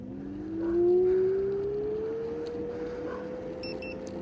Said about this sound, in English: The beep sound you hear is the cruise control locking in.